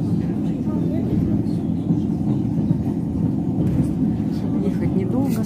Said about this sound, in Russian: И вот мы сейчас едем.